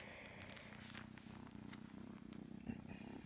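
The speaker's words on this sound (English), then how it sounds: "Oh, hang on, my cat's come for a visit." A house cat purring very close and softly, a low steady rumbling pulse with faint crackles and small rustles over it.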